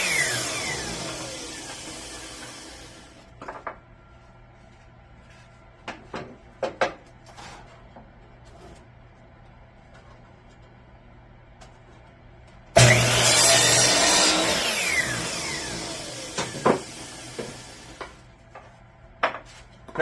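A saw cuts 45-degree corners on a wooden fence picket in two loud bursts, one at the start and one about two-thirds through, with quiet handling clatter and knocks in between.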